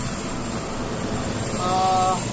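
Aircraft engines drone steadily at Lukla Airport in Nepal at dawn as helicopter and flight services start up, a loud, continuous roar with a brief rising tone near the end.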